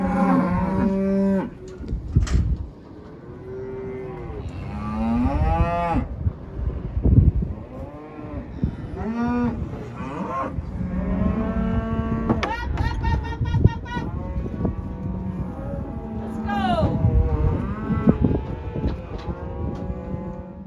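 Cattle moo repeatedly in the desert, several animals calling in long, loud bellows close by, overlapping one another with steady low background noise throughout.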